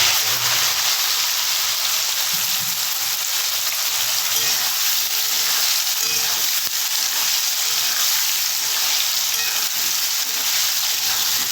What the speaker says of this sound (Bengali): নোটগুলো দিয়ে ভালো করে ভাজতে হবে বন্ধুরা